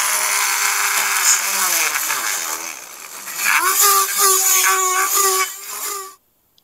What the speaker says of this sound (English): we need some sanding here because there's new powder coated surface